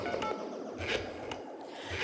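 Someone dials a telephone number, producing a quick run of faint keypad tones with no talking over them.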